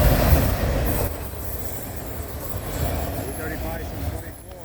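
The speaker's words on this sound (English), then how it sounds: "This train is moving." A freight train rolls past in Thomasboro with a steady rumble and faint wheel squeals, fairly loud and close, fading slightly as it moves along.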